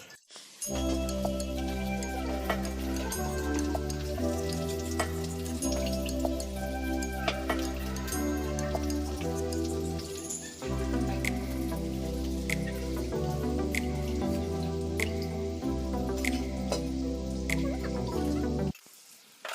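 Raw meat being rinsed in a kitchen, with a steady patter and splash of running water that holds a rhythmic music bed underneath and stops abruptly near the end.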